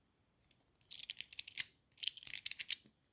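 An OBEST budget fidget slider with loose magnets underneath, slid back and forth in two quick bursts of crisp, crunchy clicks, close and isolated against silence.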